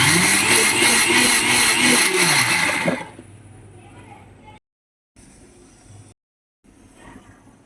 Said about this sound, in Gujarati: આ મિક્સર આપણે ચાલુ બંધ ચાલુ બંધ કરીશું